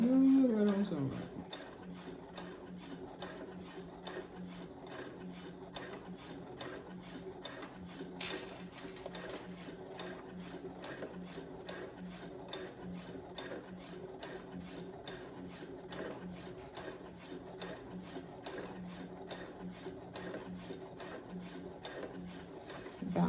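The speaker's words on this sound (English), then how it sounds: "you can like hear your sewing machine" A Brother CS7000x sewing machine stitches the side seams of a dress, running as a steady, close mechanical hum with rapid rhythmic needle ticking throughout, interrupted by one brief clack partway through.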